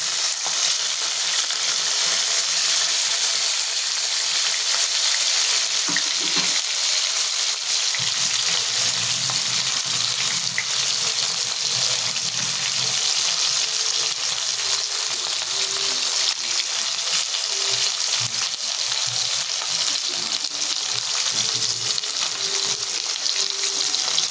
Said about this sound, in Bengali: আমি এর মধ্যে মাছগুলো দিয়ে দিচ্ছি।